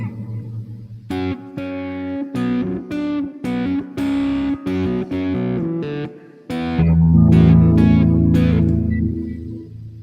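Electric guitar played through an amplifier, a string of plucked distorted notes and chords, each sharply struck and sustained, ending in a long loud ringing chord with no talking.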